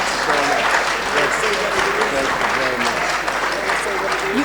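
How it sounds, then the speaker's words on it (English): Steady, loud audience applause for an award recipient at a cinema summit fireside event, continuous throughout with voices mixed underneath. "Let's give him a big round of applause."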